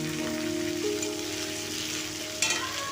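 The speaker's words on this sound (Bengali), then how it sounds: "আলুগুলো দিয়ে আমি 2 মিনিট ভেজে নেব।" Potatoes fry in hot oil in a pan for a vegetable curry, a close, steady sizzle with light crackle and a brief clatter of stirring near the end.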